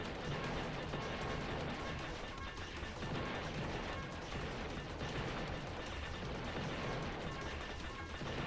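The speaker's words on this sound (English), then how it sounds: "Bullets rapid fire." Dense, relentless rapid-fire bullets in the video game Void Resurgence, a continuous loud barrage of overlapping shots and crashing impacts with no pauses, filling the whole stretch.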